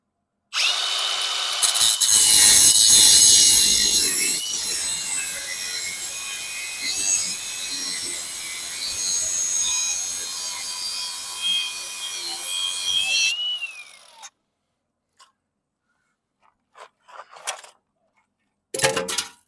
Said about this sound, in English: it's just been determined that I got to grind this thing off